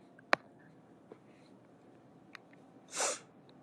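A single sneeze bursts out in a classroom, brief and moderately close, preceded by a few faint clicks and breaths in an otherwise quiet room.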